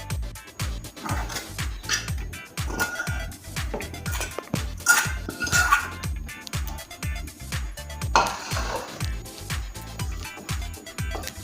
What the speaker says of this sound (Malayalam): ഇനി നമുക്കിതിലേക്ക് തേങ്ങയും അതും കൂടെ ഏത്തപ്പഴവും കൂടി ഇട്ട് കൊടുത്തിട്ട് ഒന്നുകൂടെ ഒന്ന് നല്ലതായിട്ട് മിക്സ് ചെയ്യാമേ